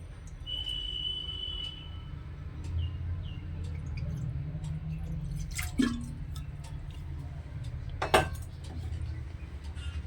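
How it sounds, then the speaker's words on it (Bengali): About 200 ml of water is poured into a kadai to make rice flour dough: a soft trickle over a low background rumble, with two sharp metallic clinks near the end. "এখন কড়াইয়ের মধ্যে পরিমাণ মতো জল দিয়ে দিচ্ছি।"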